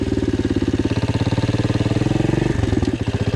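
Loncin 110/125 motorcycle engine running in testing, its exhaust giving a loud, close, rapid chugging pulse that shifts in pitch and steadies midway.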